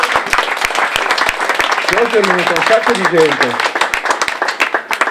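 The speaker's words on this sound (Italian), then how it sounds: "l'applauso lo facciamo anche a questo signore qui" Crowd applause at a memorial gathering, steady clapping from many hands filling the space while someone speaks over it in Italian.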